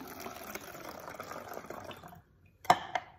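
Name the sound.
water poured through a funnel into a bottle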